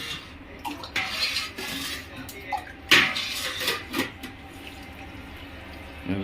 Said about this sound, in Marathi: असं पाणी टाकतंय